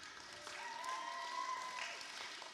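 Audience applause at a school spring show, a steady wash of clapping that holds evenly for a couple of seconds at moderate distance, with a faint sustained tone running underneath.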